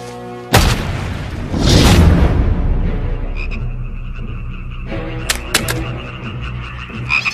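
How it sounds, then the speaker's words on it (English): Deep, resonant frog croaks sound amid a dense, rumbling soundscape, with a sudden loud onset and sharper pops and clicks toward the end. "And frogs came up out of the river and spread over the land"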